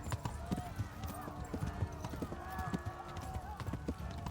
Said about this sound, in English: Forward and left shift is gallop. Fast gallop.